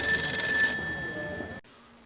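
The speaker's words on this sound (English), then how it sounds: "the phones start ringing off the hook" Several telephones ring in the Paparazzi!: Tales of Tinseltown video game, steady electronic trilling tones layered together under a busy background, cutting off abruptly near the end into quiet.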